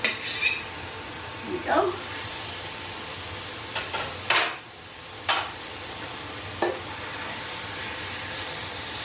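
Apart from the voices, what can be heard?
meat for fajitas being put into a pan and frying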